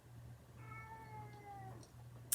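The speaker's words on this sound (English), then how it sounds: "That's my cat." A pet cat gives one drawn-out meow, faint and close, rising then falling, over a low steady indoor hum, followed by a brief sharp click at the end.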